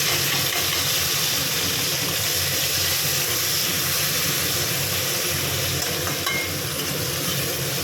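Steady, loud sizzling of onion and tomato frying in hot oil, a constant crackling hiss with occasional stirring, no voices.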